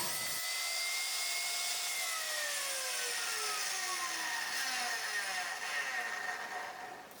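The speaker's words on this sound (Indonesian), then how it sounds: "Potong rib cut, kemudian cross cut menggunakan cross cut jig andalan." Bayur wood being ripped and then crosscut on a saw with a crosscut jig: a loud, steady, close-up whine of the blade biting the timber, its pitch sliding gradually downward, running nearly the full length and easing off at the end.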